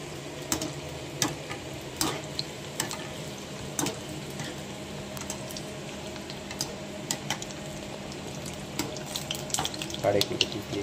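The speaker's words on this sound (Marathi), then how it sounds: "मस्तपैकी आपला पकोडा रेडी होत आहे" Crab pakoda sizzles and bubbles in hot oil on a low gas flame, a steady close crackle with scattered sharper pops and occasional clinks, no speech.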